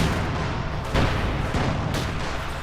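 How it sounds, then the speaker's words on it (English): Mortar artillery fire in the strategy game Company of Heroes 2, loud dense rumbling booms and crackling blasts layered over each other, with heavier impacts around the first and second seconds. "Mortar round continuing to whistle through there and just shatter things"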